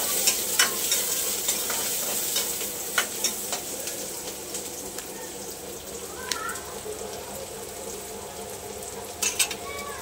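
Onion and curry leaves frying in hot oil in a home kitchen, a steady loud sizzle with occasional stirring clinks and scrapes throughout, no talking.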